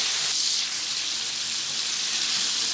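Popcorn chicken pieces frying in hot oil, a steady bright sizzle that holds evenly throughout at moderate loudness, with no talking.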